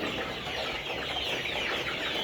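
Layer hens in a poultry shed cluck in a dense, steady chorus of overlapping calls that lasts the whole stretch, with no talking.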